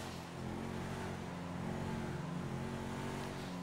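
Steady, loud engine drone of a Coil Brawler off-road 4x4 car in GTA 5 Online, a continuous rumbling rev that holds for several seconds with no talking.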